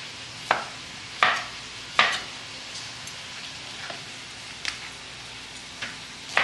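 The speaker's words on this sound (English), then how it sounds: "So we're just gonna go ahead and chop some pineapple to add to our shrimp." A knife chops through pineapple on a cutting board in a few sharp, separate knocks spaced about a second apart, close and clear against a quiet kitchen background.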